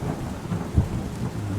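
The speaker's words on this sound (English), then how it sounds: "We kinda need to wait for it to stop raining." In the video game Terra Nil, steady rain hisses over a deep, low rumble of thunder that swells briefly in the middle, all fairly loud and without speech.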